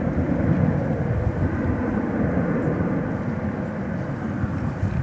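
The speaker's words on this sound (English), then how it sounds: "That's the Piedmont Retro livery, Heritage livery, an Airbus A321." An Airbus A321 in Piedmont heritage livery at DFW Airport at night gives off a continuous broad roaring rumble, fairly loud and even throughout.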